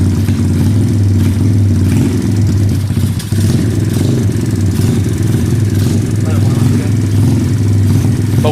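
A TaoTao DBX1 140cc pit bike engine idling close by with a steady, loud low-pitched throb and slight clatter, rising a little at moments as it is revved.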